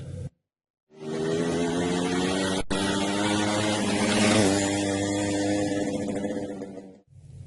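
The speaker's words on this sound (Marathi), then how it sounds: "मोटरसायकल" A motorcycle engine running with a steady buzzing drone that swells slightly, nearby and alone, after a short silent gap and a sharp click at the start.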